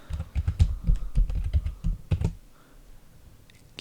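Quick, uneven keystrokes tap on a computer keyboard as a username and login password are entered during a CentOS 6.5 installation, then stop, leaving a quiet pause.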